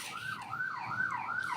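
A wailing emergency siren sweeps up and down in rapid repeating cycles, steady and moderately loud, sounding a short distance away.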